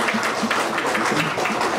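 An audience at a Ramadan religious talk gives a short burst of applause, a dense patter of clapping with no speech over it.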